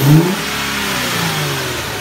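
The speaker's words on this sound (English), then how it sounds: "He's gonna rev it up." A car engine fitted with a Stillen cold air intake revs hard in one loud, rising burst, then settles into a steady, droning hum with no talking.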